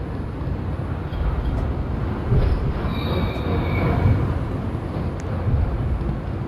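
An R142 New York City subway 2 train arriving at Wakefield–241st Street, a steady loud rumble of wheels on rail with high squealing tones and brief screeches throughout, no voices.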